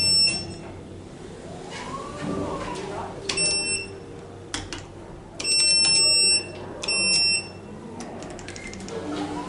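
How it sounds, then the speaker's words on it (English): Electronic beeps from lift buttons inside an elevator at the Australian Museum: a few short, bright tones, two of them sustained for about a second, standing out over quiet cab hum and faint background noise. "Interesting button beep"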